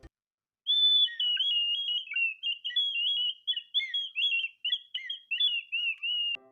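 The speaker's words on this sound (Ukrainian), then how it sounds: "Давайте послухаємо, як грають свіщик." A toy clay folk whistle warbles in a high, bird-like trill, played in a series of short bursts and runs with brief breaks between.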